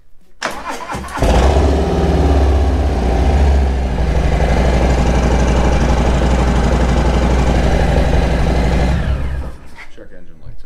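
An FXBB Street Bob motorcycle engine cranks, catches and roars to life, then settles into a loud, steady idle before cutting off; a voice briefly sounds near the start.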